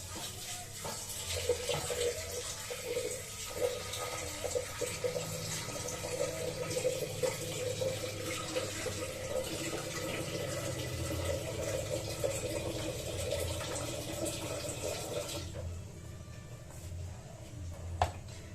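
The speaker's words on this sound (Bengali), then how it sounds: "আর দিয়ে দেবো জল।" Water poured into a pot of lentils with tomato and green chili, a steady close rush of flowing water lasting about fifteen seconds before it stops, leaving quieter kitchen background.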